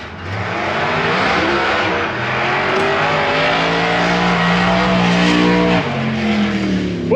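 A car engine drives and revs hard, its rising and falling harmonic whine loud and steady throughout with a brief dip near the end, alone with no talking.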